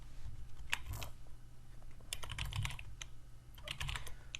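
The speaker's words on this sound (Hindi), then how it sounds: "एंड का बटन जो है कीबोर्ड पे बना हुआ एंड लिखा हुआ है" Keys pressed on a computer keyboard while working in MS Word, heard as a few scattered clicks in small clusters over steady low room hum, fairly quiet and close.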